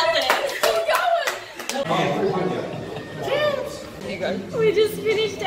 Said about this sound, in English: They're still cheering out there.